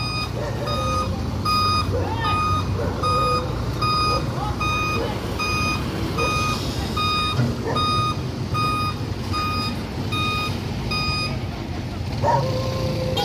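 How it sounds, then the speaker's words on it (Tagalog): A truck delivering piles sounds its reversing alarm in a repeated, evenly spaced beep pattern over engine rumble, with scattered background noise and occasional other sounds at a busy riverside construction site. "So ito yung truck na ipapasok yung dalawang pilote."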